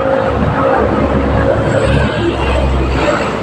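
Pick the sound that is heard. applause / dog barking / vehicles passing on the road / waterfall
vehicles passing on the road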